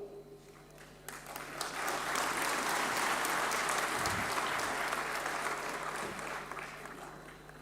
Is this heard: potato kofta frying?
no